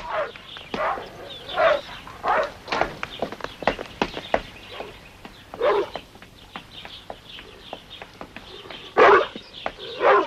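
Doberman dogs bark and whimper in a rapid string of sharp yelps and whines, fairly close and loud, mixed with brief voices.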